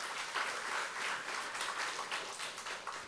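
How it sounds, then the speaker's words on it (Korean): Church congregation applauding together during a Korean Sunday service, a steady wash of many hands clapping throughout with slight swells, no talk over it. "한 박수 한번 드리세요."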